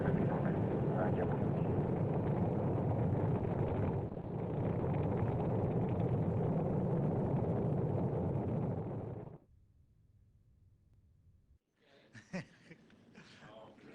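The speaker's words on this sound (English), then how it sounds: "We have good thrust on all 5 engines." A rocket launches with all five engines thrusting, a loud, steady, broad roar that holds for several seconds and then drops away to near quiet. Voices follow afterward.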